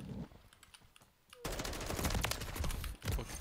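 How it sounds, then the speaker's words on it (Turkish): Gunfire in Call of Duty Modern Warfare 3 multiplayer: scattered distant shots, then a sudden burst into loud, rapid automatic fire that rattles on for about two seconds. "Evin içinden vuruyor."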